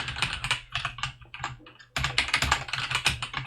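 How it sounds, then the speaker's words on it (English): Fingers type quickly on a computer keyboard, with dense, irregular close-up key clicks and a brief pause before another steady burst, over a faint low hum. "I'm typing it because I have prepared this code"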